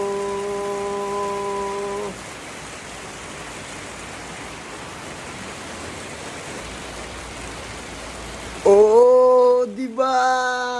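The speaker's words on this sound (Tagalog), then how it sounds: "It's been raining in Manila" Steady rain falls in Manila, a continuous close hiss under tonal sounds that come in at the start and again near the end.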